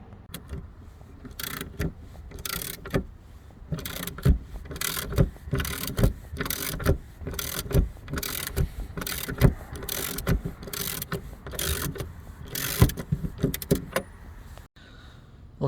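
Kia Sportage rear wiper motor's large 7/8 nut being worked loose with a ratchet, giving a long run of close, irregular metallic clicks and clunks with brief pauses.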